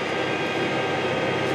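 A John Deere 8RX370 track tractor pulling a 40 ft wide tillage implement gives a steady, dense engine roar with no breaks, loud and close.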